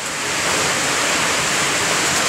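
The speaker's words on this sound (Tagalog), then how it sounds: "Lakas ng agos eh." Strong river current rushing loudly and steadily, a dense broadband roar of water that swells slightly at the start and then holds constant throughout, with no voices.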